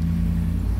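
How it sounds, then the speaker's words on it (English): Road traffic passes by outside a shop, a low steady rumble of car engines and tyres. "sorry for the traffic noise."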